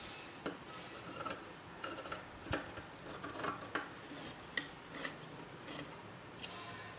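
Scissors snip through blouse fabric during Aari work stitching, with a dozen or so crisp, close cuts in an uneven rhythm and no voices.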